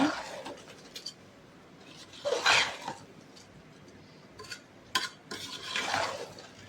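Scraping and clinking of a spoon stirring chicken biryani in a metal pot over heat, a few bursts of stirring with quieter pauses between them.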